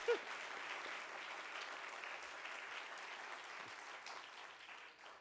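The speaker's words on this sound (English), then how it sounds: "Clap for them too." Audience at a city State of the City address clapping for municipal staff, a soft, distant wash of steady applause that holds evenly and tapers at the close.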